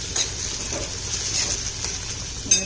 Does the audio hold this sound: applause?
no